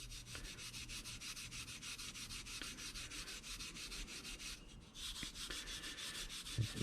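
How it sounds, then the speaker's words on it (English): A brush or pad scrubs gently along the edges of an Enfield No 1 Mk III rifle in quick, regular back-and-forth rubbing strokes, close up, with a brief pause midway and no talking. "scrub these edges. And what this will do is remove some of this heavier gunk."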